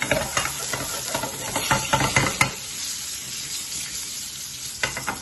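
A thick smash burger patty fries over flame in a pan, loud crackling sizzle with stirring and spatter bursts for a couple of seconds, then settling into a quieter steady hiss.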